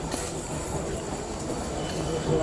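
A train rumbles at Sodepur railway station in a busy, continuous wash of rail and platform noise, with faint voices mixed in.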